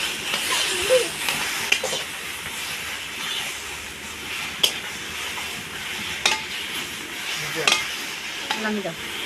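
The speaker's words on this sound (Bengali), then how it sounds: "এই ভাজা মশলা আমি দিয়ে নাড়াচাড়া করে নামিয়ে দেবো।" Taro greens cooked with chickpeas being stirred with fried spice in a pan, a steady hiss of sizzling under repeated scraping and clinking of a spoon, close, with faint voices in the background.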